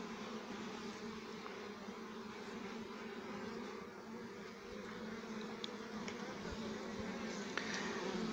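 Honeybees buzz inside a beehive, a steady, dense drone that holds at an even level throughout with no voices.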